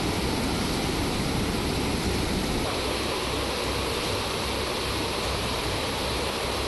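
Water released from Khadakwasla dam at about 22,880 cusecs rushes into the Mutha river, a loud, dense, unbroken roar that holds steady throughout.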